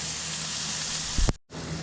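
Burger patties sizzle steadily in a frying pan with a continuous hiss, cut off briefly near the end before the frying resumes.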